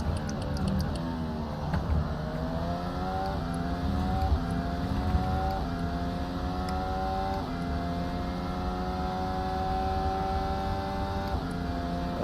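Formula 1 car in a racing sim at Bahrain, engine climbing and shifting: a steady high-pitched whine that rises in repeated stepped sweeps through the gears, continuous and fairly quiet, with no talk.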